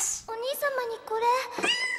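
A cat in a gift box meows in an anime scene, a few short, high, tonal mews woven among a young voice speaking Japanese.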